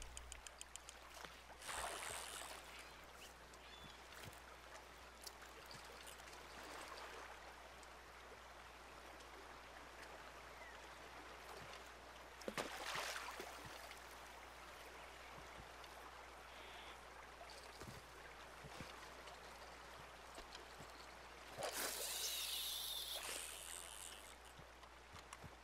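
Faint, distant waterfall and flowing water, a soft continuous wash with a few brief louder splashes or gushes breaking through, no speech.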